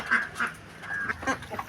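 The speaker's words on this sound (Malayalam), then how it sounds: "താറാവുകൾക്ക് ആഹാരം കൊടുക്കുന്ന ഏറിയ ഇവിടെയാണ് കേട്ടോ" Ducks quack in short, nasal bursts at their feeding spot on a home farm, several calls overlapping close by in quick succession.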